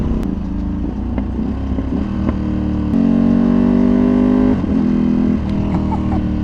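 A Ducati superbike with an auto blipper roars loudly and steadily up close on the road, its engine note climbing and dropping through quick shifts, with a voice talking faintly underneath.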